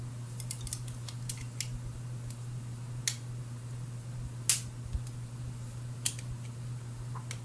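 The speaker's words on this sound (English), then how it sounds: "take and score your mat, being careful not to cut it all the way through" A knife scores a mat board for a craft wall sconce, producing sparse, sharp scratchy clicks and short drags, close and fairly quiet over a steady electrical hum.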